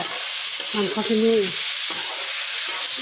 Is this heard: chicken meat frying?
yes